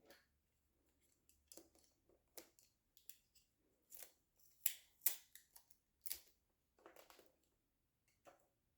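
Scissors cut through wrapping paper during gift wrapping, a series of sharp, close, crisp snips and slicing strokes in irregular clusters with quiet gaps between them.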